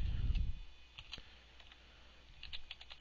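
Computer keyboard being typed on while entering machine code, soft close key clicks in a short irregular run after a brief low thump.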